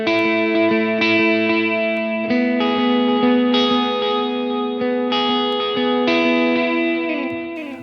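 Electric guitar playing a ringing intro hook on a clean amp with dotted-eighth delay, bright repeating note patterns echoing into each other and fading out at the end.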